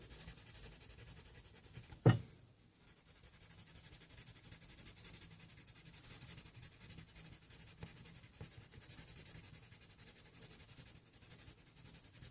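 Quiet, continuous scratchy rubbing of a paper blending stump pressed hard on pencil drawing paper, steady and close, interrupted once by a sharp knock about two seconds in.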